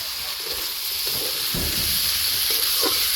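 Tender tomatoes hit a hot frying pan and are stirred, a constant bright sizzle overlaid with rhythmic scraping and stirring strokes, close and fairly loud.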